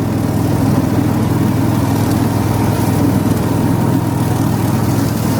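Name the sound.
tractor mowing tall grass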